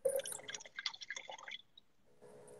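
Red wine, a Carignan, poured from a bottle into a glass: a short liquid trickle with small splashes and drips for under two seconds, close and quiet, then a faint pause.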